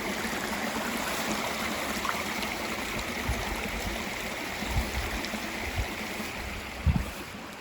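Water rushes steadily out of a cistern drain at full force in a loud, continuous roar, with a few low thumps and splashes breaking through near the end.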